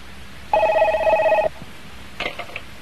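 A telephone rings indoors with one loud, steady electronic trill lasting about a second, then a faint clattering handling noise follows.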